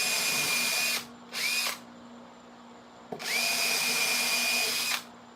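A power drill drives into a mix of wood and composite, giving three whining bursts: a short one, a brief blip, then a longer steady run. Each starts and stops sharply, with quiet gaps between and no talking.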